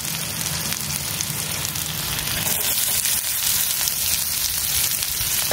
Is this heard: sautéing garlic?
yes